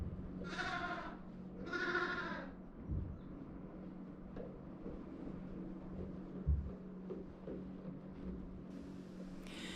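Sheep and lambs on a farm bleat in two quick, clear calls close by near the start, followed by a quiet stretch of low farmyard background with a few soft knocks.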